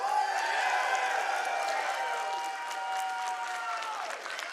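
Steady applause from a live audience at a speedrun charity marathon, a dense wash of clapping that holds throughout at a fairly even level.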